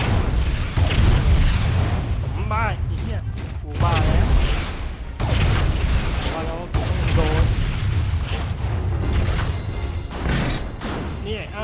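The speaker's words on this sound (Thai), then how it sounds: "ระเบิดสวยมากเลย" Repeated heavy explosions in Transformers: The Game on PS2 boom and rumble continuously, with a voice talking over the din.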